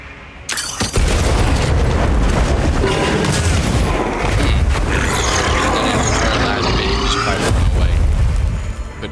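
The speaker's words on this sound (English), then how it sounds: "Bomb set." A bomb detonating in the Monster Hunter video game: a sudden, loud boom half a second in, followed by several seconds of heavy rumbling blasts and crackling debris before it tapers off.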